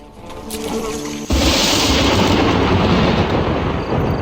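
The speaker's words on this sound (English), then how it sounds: "Looks like we're in for quite a storm this evening." A video-game thunderstorm breaks with a sudden heavy rumbling crash of thunder that sustains as a loud, broad roar with rain-like noise.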